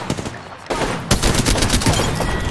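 Rapid automatic gunfire from the video game Apex Legends, dense and loud, with overlapping bursts that run almost continuously and grow heavier partway through.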